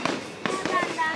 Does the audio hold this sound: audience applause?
no